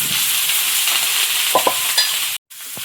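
Taro pieces dropped into a hot pan with chili and tomato, a loud continuous sizzle and frying hiss with a few soft stirring knocks, near and alone.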